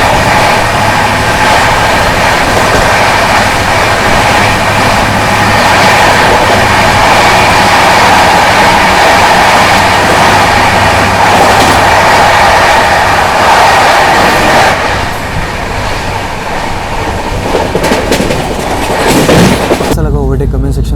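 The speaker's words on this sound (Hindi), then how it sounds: "overtaking Amritsar Bilaspur Chhattisgarh express" A Gatiman Express train overtakes the Amritsar–Bilaspur Chhattisgarh Express on the Delhi–Jhansi line, a loud continuous rumble with rolling wheel clatter that shifts partway through before cutting off.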